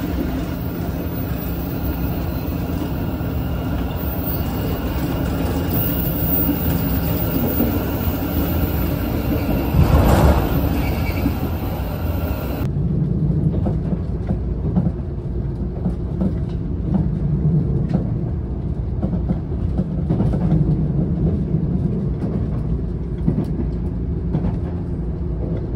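A JR limited express Yakumo 381 series train runs on the Hakubi Line, heard from on board as a steady, loud rumble and rolling wheel noise throughout, with a brief louder swell partway through and no talk.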